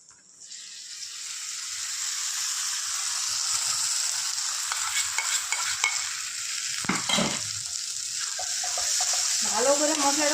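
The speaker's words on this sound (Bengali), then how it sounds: "ভালো করে মশলাটা কষিয়ে নিতে হবে।" Masala paste of ground cashew, tomato and coriander sizzles steadily in a kadai (wok) as it is stirred, with a soft continuous hiss and occasional scraping and clinks from the spoon, close by.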